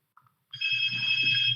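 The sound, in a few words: telephone ringing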